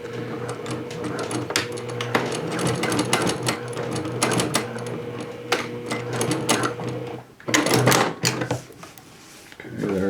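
A Juki 644D sewing machine with a denim needle stitching jeans, running in a steady rapid clatter up close and loud, with a brief pause near the end before it resumes.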